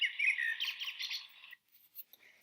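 A shrill recorded bird call from a children's sound book chirps and trills for about a second and a half, close and clear, then gives way to faint scattered chirps.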